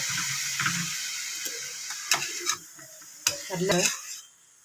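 A spoon stirs a thoran stir-fry in a pan, soft sizzling under several sharp scrapes and clinks against the metal, close by, fading out near the end.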